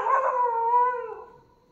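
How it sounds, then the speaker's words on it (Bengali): A single dog howls alone at night near a forest resort in Jaldapara, a clear drawn-out wail that holds its pitch and then fades away over about a second and a half. "ওরা আসলেই মানে কুকুরগুলো চিৎকার করে।"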